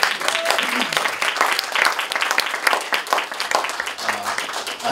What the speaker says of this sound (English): I think I said a big round of applause.